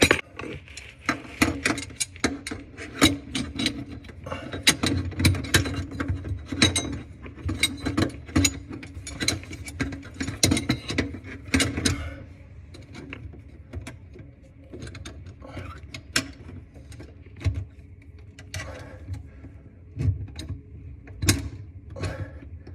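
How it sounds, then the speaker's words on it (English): A ratchet wrench backs out the set screws on an InSinkErator garbage disposal, making rapid bursts of sharp clicking that thin out and slow in the second half, close up with no talking. "You want to back out the set screws."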